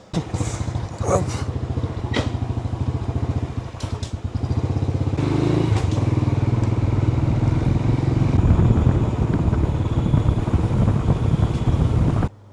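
A motorbike engine drones steadily and close, with wind rushing over the microphone as it picks up speed.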